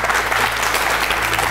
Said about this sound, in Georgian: აპლოდისმენტები ისმის დარბაზში